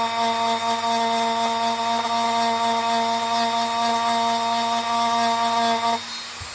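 A power tool sands a part of a Nerf Aliens pulse rifle, giving a steady, loud, tonal motor whine that holds evenly for about six seconds before cutting off.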